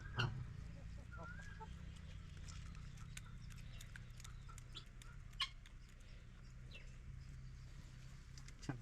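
Black chickens among other fowl cluck and call faintly in a park enclosure, scattered short calls over a low, steady background hum.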